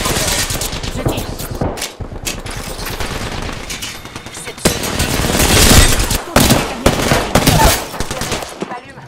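Rapid automatic gunfire in Apex Legends rings out in loud, close bursts, trailing off briefly then resuming in a long heavy volley with sharp separate shots after.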